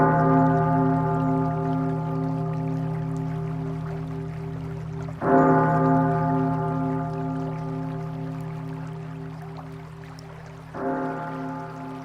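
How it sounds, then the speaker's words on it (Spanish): A sustained, resonant evening church bell rings steadily and is struck again twice at roughly five-second intervals, each strike blooming over a soft background of flowing water. "todavía podía oírla, incluso por encima de los sonidos de las aguas,"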